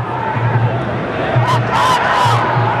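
Football crowd at an Egypt vs Senegal youth semi-final of the Arab Youth Cup, with a continuous roar of supporters chanting and cheering and bursts of louder shouting rising over the steady din.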